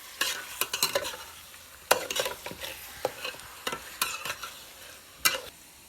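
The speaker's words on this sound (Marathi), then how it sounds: "हे बघा मिक्स करून घ्यायचं आता हे मस्त पैकी" Mutton coated with turmeric and salt is stirred and mixed in a pot over a wood-fired stove, producing a series of close, irregular scraping and clattering bursts with short pauses between them.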